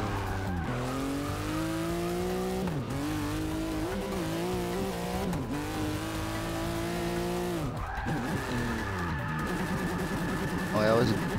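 A race car's engine in Forza Motorsport 6 climbs through repeated rising revs with brief dips at each gear change, steady and continuous, with tire squeal near the end.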